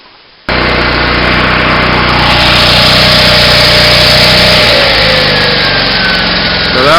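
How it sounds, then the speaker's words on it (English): An engine-driven welder starts up and runs steadily at a loud, constant drone, with no talking over it. "So that would be the welder."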